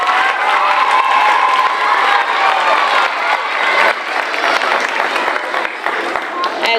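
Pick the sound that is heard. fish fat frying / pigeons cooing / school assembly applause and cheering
school assembly applause and cheering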